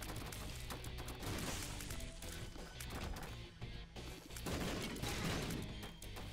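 Explosions and crashing impacts from a bomb blast in the Binding of Isaac: Repentance video game, with repeated bursts over dense, busy game noise.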